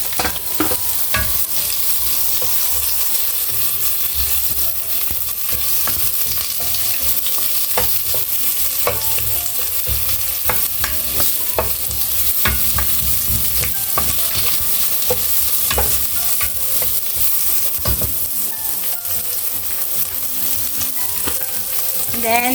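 Garlic and onion sauté in a hot pan, a loud continuous sizzle and crackle with frequent scraping stirs of a utensil against the pan throughout.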